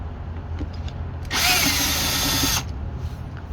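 A power drill backs a panel screw out of a Firman W2000i inverter generator in one short whirring burst lasting about a second, close by, with faint handling noise before and after.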